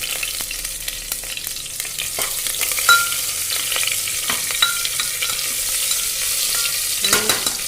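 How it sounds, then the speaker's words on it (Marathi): Steady, dense sizzling of eggplant frying in hot oil, with occasional crackles and stirring scrapes throughout; no talking. "मी इथं छान तेलावर वांगे मस्त तेलावर फ्राय करून घेतली आहेत"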